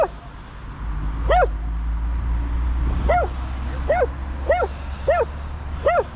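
A dog in a forest clearing gives a series of high, whining yelps and whimpers, about six rising cries spaced a second or so apart, close, over a low rumbling background.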